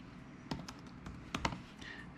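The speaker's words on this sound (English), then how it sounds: "and I'm going to type in" Light, quiet keystrokes on a computer keyboard in a workshop, a handful of separate taps clustered in two short bursts.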